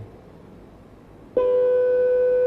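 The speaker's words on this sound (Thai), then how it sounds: "เครื่องเนี่ยสร้างเสียงความถี่ 500 เฮิรตซ์ออกมา" A steady 500 Hz pure sine tone begins abruptly partway through after faint background hiss, holding loud and unwavering to the end.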